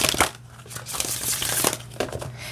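A deck of thin, very flexible cardstock oracle cards is shuffled up close, giving a continuous papery riffling and crinkling with a few sharper flicks, and nobody talks.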